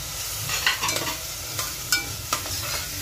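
Onions stir and fry in a pan for dhaba-style potato curry. A spoon scrapes in a few sharp strokes over a soft, steady sizzle, close up with no talking.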